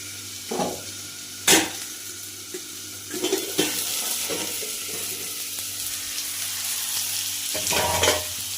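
Vegetables fry in a pan with a soft background sizzle, broken by sharp scraping strokes of a spatula stirring them, several bursts spaced irregularly and a louder cluster near the end; nobody speaks.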